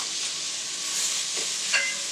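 Onions frying in a hot Dutch oven, a steady close hiss of sizzling with a couple of brief stirring scrapes, no voices.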